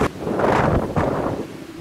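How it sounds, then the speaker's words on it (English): Wind buffets a microphone outdoors in the Palm Springs, California desert, loud rushing gusts with low rumbling thumps that swell and ease through the whole stretch. "It's a bit windy here, as you can tell."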